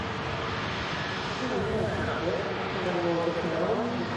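TUI airliner jet engines roar at takeoff rotation at Manchester Airport, a steady broad rumble with a faintly shifting whine, heard from a distance under a voice talking.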